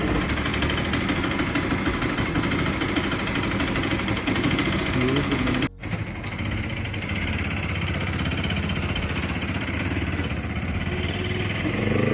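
A Bajaj Pulsar RS 200 motorcycle engine runs steadily just after starting, a dense close rumble that briefly cuts out and then settles back into an even idle.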